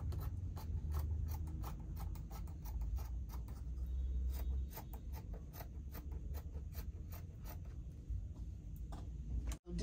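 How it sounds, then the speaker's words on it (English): Scissors cut through folded lace fabric along a neckline shape in a dense run of close, crisp snips with faint rubbing of cloth between cuts, ending in a brief louder knock. No one speaks. "I'm going to cut out the shape of the neckline just as if we want to cut facing."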